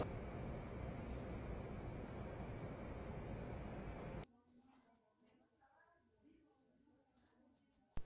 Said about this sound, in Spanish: este ruido común es muy parecido al ruido de una cigarra